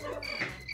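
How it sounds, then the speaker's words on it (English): Cricket chirping played as a sound effect on a live game-show stream, a steady high insect trill running briefly and fairly quietly on its own. "Oh, it's crickets."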